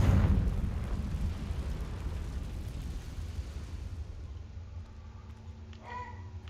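A Confringo blasting spell explodes in Hogwarts Legacy with a heavy, booming burst right at the start, its deep rumble fading slowly over several seconds, with faint small sounds near the end.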